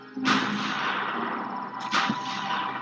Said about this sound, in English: The British have been shelling the city for 6 weeks.